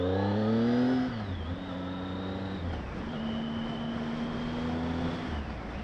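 Triumph Speed Triple R motorcycle engine under way, a loud steady roar that drops in pitch on a downshift and braking, then holds an even drone with wind noise.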